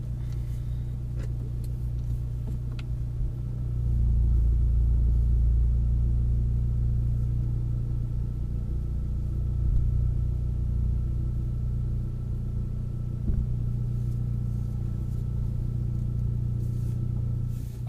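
Interior drone of a Ford Mustang EcoBoost with aftermarket exhaust, a steady low idle rumble that swells into a deeper, louder hum partway through and holds there, with faint cabin noises on top.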